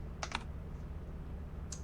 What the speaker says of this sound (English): Type in moons on your keyboard